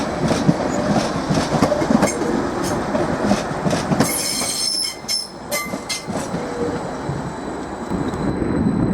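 A Class 755 train, unit 755325, pulls into Norwich station from the Wherry lines, wheels squealing and clicking over rail joints, loud and close with shrill metallic screeches mid-way.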